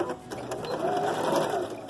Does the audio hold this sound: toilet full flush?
no